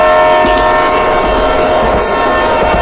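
A train in a cartoon, loud and steady, with a sustained horn-like tone over rumbling rail noise throughout, no talk.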